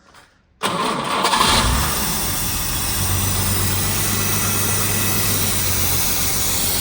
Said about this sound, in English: Michael, do you just want to just fire it up?